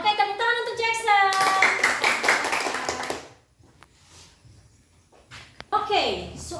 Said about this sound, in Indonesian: tepuk tangan untuk Jackson